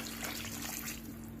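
Water is poured from a glass into a pan of aloo gobi, a soft steady trickling wash over a quiet background hum.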